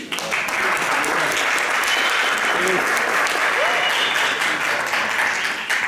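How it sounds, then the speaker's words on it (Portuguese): A church congregation applauds a missionary woman with loud, sustained clapping that holds steady throughout, while voices speak and call out over it. "Vamos aplaudir essa menina?"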